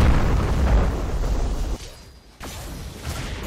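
A loud, dense explosion blast in the video game Type://Soul rumbles broadly for nearly two seconds, drops briefly, then continues as a lower lingering roar.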